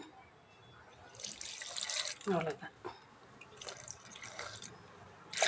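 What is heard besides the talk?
pouring water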